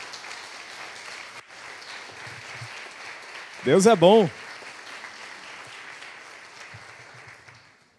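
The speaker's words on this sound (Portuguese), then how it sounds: "Vamos aplaudir o Senhor por isso, em nome de Jesus." A church congregation applauds steadily and evenly during a sermon. The clapping runs under a brief spoken remark midway and fades toward the end.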